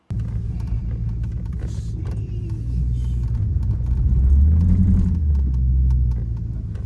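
A car engine rumbles steadily in a low drone while driving, swelling a little louder partway through before settling back, with no one talking.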